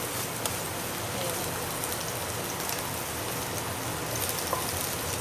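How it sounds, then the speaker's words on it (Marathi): Crushed garlic sautéing in hot oil for a simple home-style wild vegetable dish gives a steady, even sizzle that hisses on without a break from start to finish. "मस्त छान लसूण परतून घेऊया थोडासा हलकासा"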